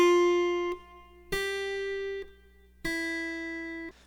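Three sustained guitar notes ring out one after another, each plucked cleanly and left to decay, with a brief gap before the next; no voices.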